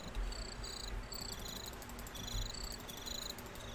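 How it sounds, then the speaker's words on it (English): Crickets chirp in a field in a Minecraft modpack, a thin, high pulsing trill repeating in quick bursts over a steady background hiss. "It's because of these freaking crickets."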